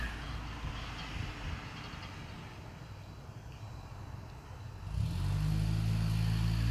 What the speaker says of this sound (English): Triton truck.